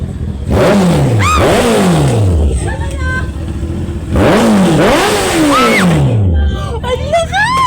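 Honda CBR650R motorcycle exhaust revs hard twice, each burst rising and falling loudly up close, with excited voices shouting and reacting around it.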